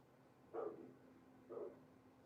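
Two deep Rottweiler barks, spaced about a second apart, sounding somewhat distant and muffled against a quiet background hum.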